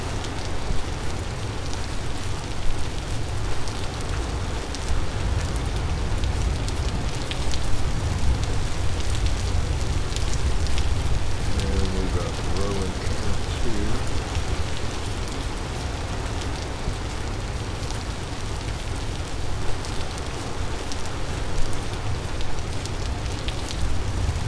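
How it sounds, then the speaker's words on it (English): Steady rain in the survival game Vintage Story, a continuous dense hiss of falling drops lasting throughout at an even, moderately loud level with no speech. "This is a rainy, rainy area."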